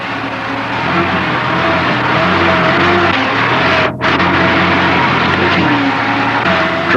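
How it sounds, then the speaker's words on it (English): A Toyota Landcruiser engine in low range crawls over rocks, a steady droning rumble with layered mechanical tones that holds close and loud, with one brief dip partway through. "allow the vehicle to creep over the rocks under the combined force of engine and gearbox"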